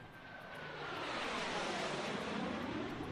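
Airplane in flight heard as a steady, broad whooshing engine roar that swells slightly louder over a few seconds, with no voices present.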